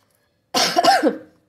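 A single short, harsh cough, close and loud, breaking the quiet and fading quickly.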